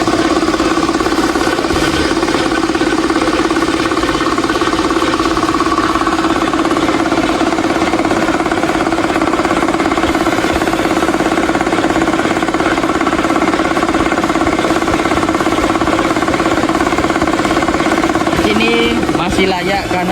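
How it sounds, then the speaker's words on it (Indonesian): Electric motor compressor running steadily, a loud continuous hum with a rough, buzzy vibration that holds level throughout, close to the machine. "Ini saya akan mengecek getaran pada kompresor motor listrik."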